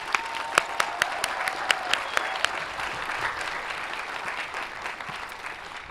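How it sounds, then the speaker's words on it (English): Audience applause at a university arts commencement ceremony, a dense steady clapping from a large crowd with a few sharper nearby claps standing out, sustained throughout. "We applaud and we celebrate you."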